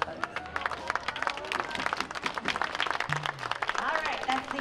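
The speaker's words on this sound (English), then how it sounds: "so a quick round of applause for all those folks." An audience at an outdoor summer music series concert claps for the event sponsors with steady, moderately dense applause and a few background voices, sustained to the end.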